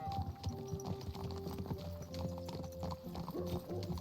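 Steady clip-clop of horse hooves at a walking pace in the video game Kingdom Come: Deliverance II, with sustained musical tones playing underneath.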